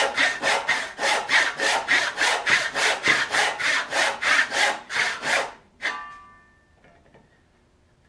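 A hand saw cuts a tenon in wood with steady, rhythmic back-and-forth strokes, about sixteen of them, loud and close. The sawing stops near the end and leaves a faint ringing, then quiet.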